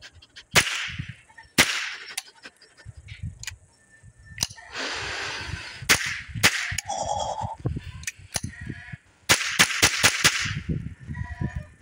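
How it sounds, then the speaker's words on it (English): Remington Model 597 semi-automatic .22 rifle firing at an audio speaker, with several sharp, loud cracks spaced irregularly across the clip, some in quick succession, over background rustle and movement. "It is a Remington Model 597, it's a semi-automatic 22, and we're going to see how this thing shoots"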